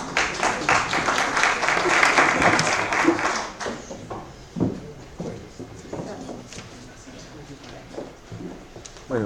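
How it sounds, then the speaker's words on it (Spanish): An audience at an evening law and economics seminar applauds a speaker's introduction, loud clapping for the first few seconds that fades into scattered claps and room noise. "Esta noche con su tema Cárcel y Derechos, recibamos con un fortísimo aplauso por favor al doctor Jorge Paladines."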